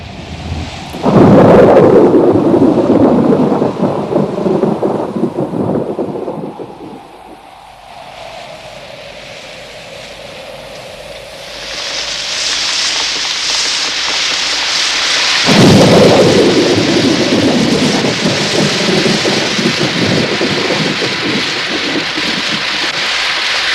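Heavy rain pours steadily through a thunderstorm as two loud, rolling thunderclaps rumble up and fade away, with no voices.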